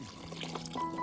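Water is poured into a chicken curry cooking outdoors in a forest, a short, close splashing pour with a faint tonal ring.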